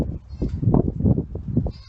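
Goats on a small farm bleating, several quavering cries in quick succession, close and fairly loud.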